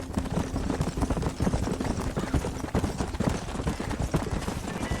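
Horse hooves clip-clopping at a quick, steady pace in the video game Red Dead Redemption, loud and close, with faint rumbling in the background.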